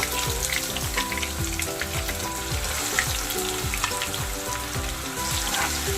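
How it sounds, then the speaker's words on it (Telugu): Ginger and onion paste hits hot oil for a crab curry, producing a dense, steady sizzle and crackle that runs close and continuous throughout, with a low rhythmic background underneath. "ఆయిల్ వేడెక్కింది ఫ్రెండ్స్. అల్లం ఉల్లిగడ్డ పేస్ట్ వేస్తున్నాను."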